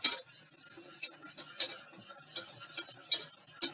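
A whisk scrapes and clinks against the bottom of a pan while a creme brulee mixture is beaten, with rapid, irregular metallic strokes close by and no talk.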